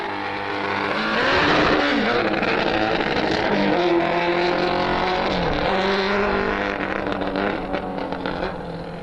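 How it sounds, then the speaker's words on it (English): Home-built hot rod racing while struggling with its gear changes: a loud engine revs up and down with uneven pitch swings and stumbling shifts across several seconds, rising quickly at the start and easing slightly toward the end. "it sounded like he was really having a hard time shifting"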